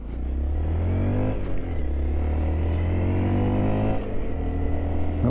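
The engine of a 2022 Honda Monkey 125 motorcycle hums and revs steadily, close up, with a low throaty drone that swells slightly and eases back.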